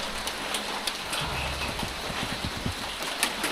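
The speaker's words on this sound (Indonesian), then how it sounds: "Hujan guys." Rain falls steadily in a leech-infested forest, a soft continuous patter with scattered sharper drops and some low thumping movement nearby.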